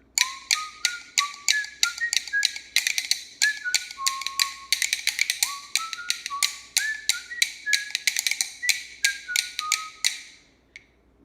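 Rapid clacking bones played with both hands under a bright, melodic whistled tune, the clicks and whistle running together in a lively rhythm for about ten seconds before stopping.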